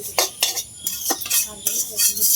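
Flattened rice (chira) dry-roasting in a pan at home, stirred with a metal spatula: repeated close scraping and clinking strokes in an uneven rhythm, loud and alone.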